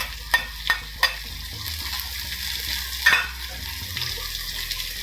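One big finely chopped onion sizzles as it fries in a hot pan on high heat, with a steady frying hiss and several sharp stirring scrapes and clicks near the start and middle, and no talking.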